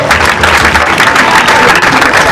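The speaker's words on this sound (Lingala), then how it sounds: "Est-ce qu'on peut applaudir très fort?" Loud, sustained applause from a live audience at a comedy show featuring a Congolese comedian troupe, dense clapping filling the whole stretch without letup.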